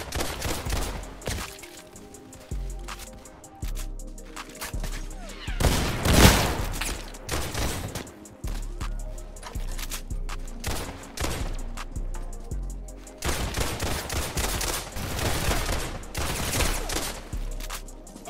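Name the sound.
gunshots in the Roblox game Criminality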